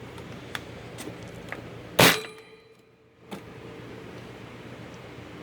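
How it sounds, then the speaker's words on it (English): Metal blade being fitted back onto a Massey box fan: one sharp metallic clang followed by fading ringing, a few light taps and clicks before, and another softer knock a second later over a quiet background hiss. "so we're just going to put the blade back on"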